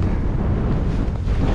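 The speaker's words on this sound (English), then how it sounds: "It's a little bit windy" Steady wind buffets a microphone on an overcast coastal shore, a continuous low roar with surf-like rushing and no speech.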